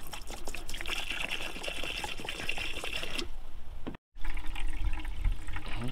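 Liquid draining from tent trailer plumbing during winterizing pours steadily into a small bucket, a continuous close trickling splash that breaks off briefly near the end before resuming.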